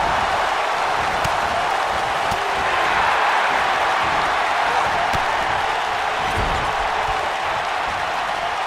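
A large arena crowd at a ten-woman royal rumble wrestling match roars and cheers in a steady, loud wash with no letup, apparently from a video game.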